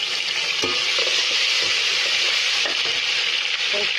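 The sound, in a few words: garlic and ginger paste frying in ghee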